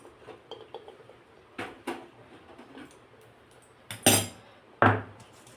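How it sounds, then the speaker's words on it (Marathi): Metal kadhai (wok) handled and set down in a kitchen, several clanks and knocks of varying loudness, two sharp louder impacts near the end, no talking. "ही कढई खाली काढून ठेवते"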